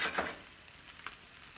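Fish frying in butter in a pan, a soft steady sizzle throughout with a brief louder burst near the start, close and fairly quiet.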